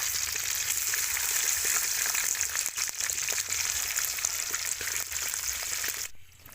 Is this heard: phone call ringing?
no